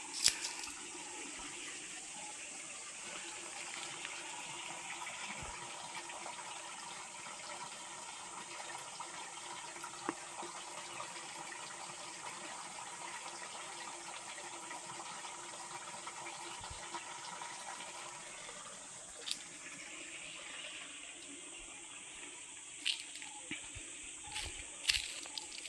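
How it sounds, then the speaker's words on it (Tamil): Mountain stream water at Sathuragiri hill flowing steadily, a continuous broadband rush and hiss that stays constant throughout, with a few faint clicks near the end. "பொதுவாக சதுரகிரியில் எல்லா இடத்துலையுமே அந்த தண்ணியோட சத்தத்தை கேட்க முடியும்"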